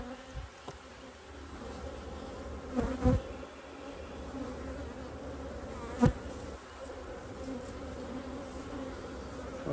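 Honeybees buzzing around an opened hive during a spring mite check, a steady close drone of many wings with a couple of brief louder passes as bees fly near, no voices.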